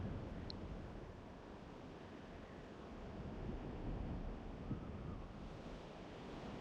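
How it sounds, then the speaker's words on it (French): Steady broadband wind rushing with slow swells in intensity, a continuous airy roar throughout with no voices, in the video game World of Warcraft. "Très beau bruit de vent.png là où je regarde."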